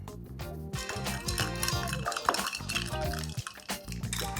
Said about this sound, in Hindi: अब ये जो मिर्ची है ये समझ लो ये स्पून है और इससे आपको इसको अच्छे से स्टर करना है।